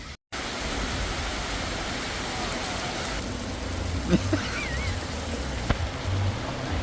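Steady rain hisses evenly throughout in the Philippines, with a few faint knocks and a brief tonal squeak partway through.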